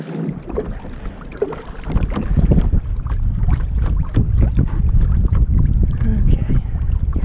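Wind buffets a microphone on a fishing boat out on open water, a steady loud rushing roar with gusty swells that build and hold, while water laps against the hull; a person speaks over it.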